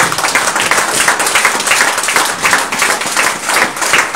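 A church congregation applauding, dense and loud continuous clapping with rhythmic swells, close and filling the space throughout.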